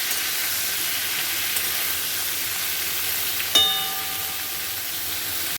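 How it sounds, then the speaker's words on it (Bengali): Potatoes and cauliflower frying in oil in a pan, a steady broadband sizzle throughout with a single sharp metallic clink partway through that rings briefly, no talking. "আলু আর ফুলকপিগুলো দিয়ে নেব, দিয়ে ভালো করে একটু ভেজে নেব"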